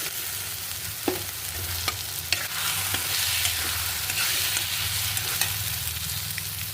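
Oil frying in a pan for a spinach and egg curry, a dense, loud sizzle with scattered pops and ticks over a low rumble, no talk.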